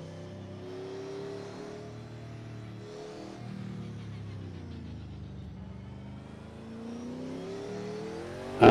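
Race car engine in Project Cars 2 (VR) roaring under full throttle, its pitch rising and falling through gear changes and braking, steady and close throughout.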